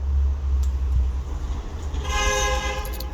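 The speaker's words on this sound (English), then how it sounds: "Why you honking your horn?" A car horn blares in traffic, a sustained tonal honk starting near the end of the stretch over a constant low engine and road rumble.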